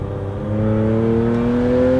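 Supercharged Porsche 911 engine under hard throttle, a loud steady drone with rising pitch and a whining supercharger chatter layered on top, heard from inside the car with no talking.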